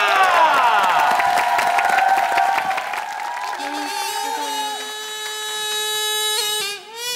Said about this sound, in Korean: 큰 박수로 무대를 맞으시기 바라겠습니다